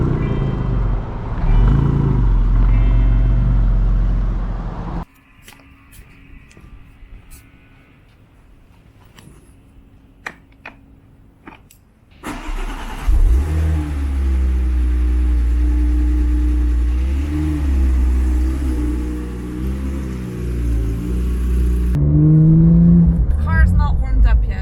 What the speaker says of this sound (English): Car's not warmed up yet, bro.